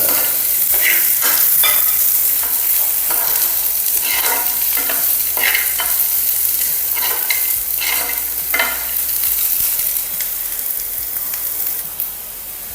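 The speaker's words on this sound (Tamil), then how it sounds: "பூண்டு லைட்டாக வதங்கிட்டுனா நம்ம வந்து மிளகாய் வந்து போட்டுடலாம்" Garlic and chillies fry in oil in a pan, crackling and sizzling steadily up close while a spoon stirs them now and then, with no voices over the noise.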